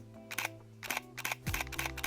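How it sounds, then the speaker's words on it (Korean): Shutter of a Nikon Z fc mirrorless camera, a few crisp mechanical clicks in quick succession over a faint steady background hum, close and clear. "셔터음인 것 같습니다"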